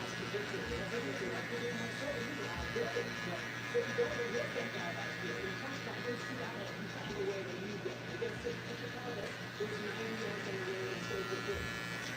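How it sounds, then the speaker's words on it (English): A small electric hair clipper buzzes steadily while a child's hair is cleaned up. The hum runs the whole time under ongoing talk, with light irregular clicks and shifts as the clipper moves. "Let's take our little clipper and clean up everything else around here."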